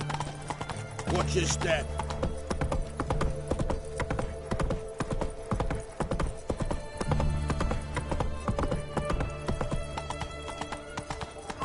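Roach the horse in The Witcher 3 clip-clops at a steady rhythmic pace on hard ground, close and prominent, with a brief whinny early on and a short spoken line over the hooves.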